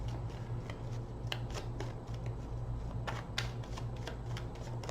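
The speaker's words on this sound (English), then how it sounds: "3 more shuffles." A deck of tarot cards is shuffled in quick riffling bursts, crisp papery flicks repeating irregularly over a steady low background hum, close and fairly quiet.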